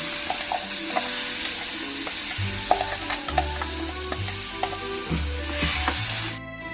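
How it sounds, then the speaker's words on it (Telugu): Amaranth leaves fry in a pan for amaranth chutney, giving a loud, continuous sizzle broken by scraping stirs and light clinks, close up, with no talk. "ఇప్పుడు తోటకూర వేసుకుంటున్నాను."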